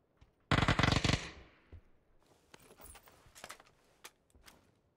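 Automatic weapon fire in PUBG, a loud dense burst of rapid shots lasting under a second, followed by quieter scattered clicks, thuds and distant pops.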